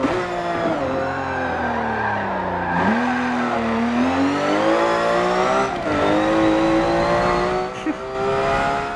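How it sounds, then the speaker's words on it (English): A car in Forza Motorsport 7 slides through turns, its tyres squealing and skidding while the engine rises and falls in pitch between corners. The sound is loud and continuous, with the engine drone running throughout. "you just see this car sliding out in front of you through like almost every other turn"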